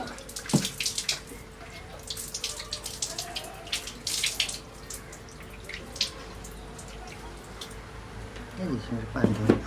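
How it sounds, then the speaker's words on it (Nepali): Tap water runs steadily for hand washing during a meal of fried fish curry with rice, a continuous close hiss with a person talking over it. "यसमा पानी थियो, हात धुने पानी थियो।"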